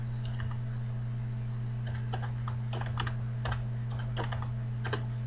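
Computer keyboard typing in a run of scattered, uneven key clicks over a steady low electrical hum, close and without speech.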